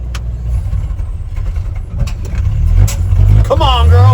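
Engine of a classic C60 farm dump truck pulls along in second gear, a loud low rumble building steadily, with people talking over it.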